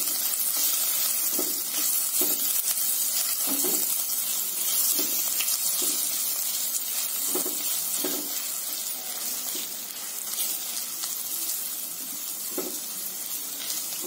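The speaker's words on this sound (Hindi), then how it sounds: "2-3 मिनट भूनेंगे।" Whole red chillies, finely chopped garlic and grated ginger fry with panch phoron in hot oil, giving a steady, close sizzle with occasional stirring scrapes throughout.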